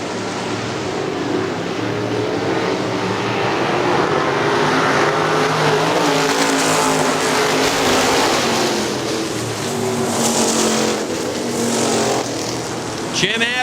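Super stock race cars racing at Hartford Speedway, engines roaring in a pack as several cars battle for position, loud and sustained with rising and falling passes, a race announcer talking over the engine noise.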